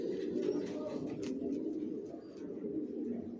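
Racing pigeon chicks cooing softly and continuously in a loft, a low, steady murmur of several birds close by with faint chirps above it.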